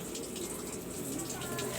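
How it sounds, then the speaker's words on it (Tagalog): Steady rushing water pouring into a washing machine, a continuous broadband hiss and splash at close range with no pauses throughout the short stretch. "Naglalagay ako ng tubig."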